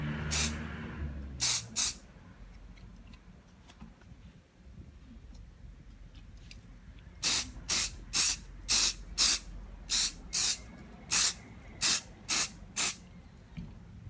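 Crep Protect coating is sprayed onto shoes in short hissing aerosol bursts, a couple early and then a rapid series of about a dozen evenly spaced close sprays.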